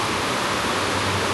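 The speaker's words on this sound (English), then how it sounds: "see the water popping up? Splashing up into the air?" Water churns and splashes in the wave pool at Typhoon Lagoon in Disney World, Florida, as a steady, broad rushing wash with no clear breaks, fairly faint and continuous.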